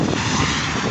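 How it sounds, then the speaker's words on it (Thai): Philippine airliner landing at Suvarnabhumi Airport, a loud, close, continuous aircraft engine roar filling the whole moment without voices. "เครื่องบินฟิลิปปินส์"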